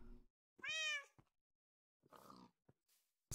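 A cat meows once in Minecraft, a clear, rising-and-falling cry with quieter gamey rustles and clicks afterward, in an otherwise quiet scene.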